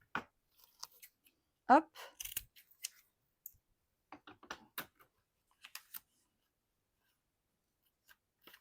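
Scissors make a few sparse, crisp snips close by while cutting protective backing film for a craft project, with a short spoken exclamation and long quiet gaps between the cuts.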